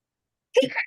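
A single short sneeze bursts out suddenly after silence, sharp at first and then tailing off quickly.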